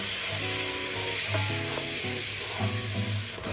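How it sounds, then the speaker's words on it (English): Butter melting over low heat in a large pot, a soft steady sizzle and faint crackle heard up close, with a few light clinks and a brief knock at the very end. "In a large pot over low heat, melt the butter."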